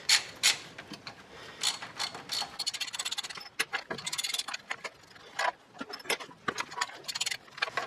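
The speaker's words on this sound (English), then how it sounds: "take off these 4 nuts on the top that hold the valve cover on" A ratchet removes valve cover nuts on a 1987 Toyota Camry engine, with close, quick clicking runs broken by short pauses and occasional metallic knocks, and no talking.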